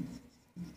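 Chalk scratches across a classroom board during a Hindi biology lecture on the cell nucleus, a brief close, dry scraping stroke that pauses for a moment and then resumes.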